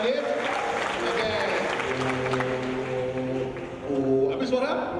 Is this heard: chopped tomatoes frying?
no